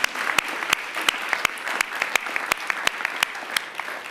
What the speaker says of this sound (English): a great round of applause for that